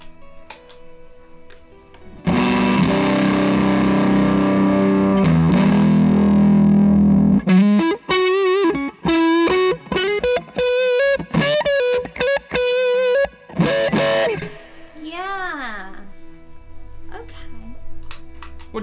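An electric guitar played through boost and fuzz pedals at once: a thick, sustained distorted chord rings out, then a run of choppy, buzzing single notes and a bent, wavering note, loud and close before fading to hum.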